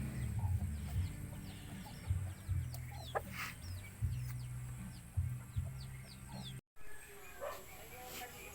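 Chickens clucking near a ripening saba banana tree, repeated short clucks and calls close by, with a dog barking at times and people talking in the background, plus a brief dropout near the end.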